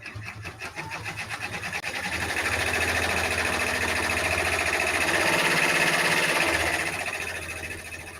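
A multi-needle embroidery machine stitching, with a loud, fast, steady mechanical rattle that builds up and holds evenly before easing slightly, close by and without talk.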